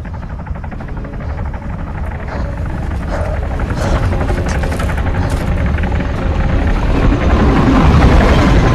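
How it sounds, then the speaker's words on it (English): Helicopter in the video game ARMA 3, its rotor chop pulsing steadily and growing louder as it draws nearer, with no talk over it. "Here, a chopper."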